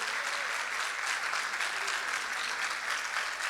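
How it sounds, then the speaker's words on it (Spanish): A theater audience applauds director Alejandro Doria at a tribute event with steady, even clapping from a large crowd, sustained at moderate loudness with no pauses. "Un aplauso, por favor,"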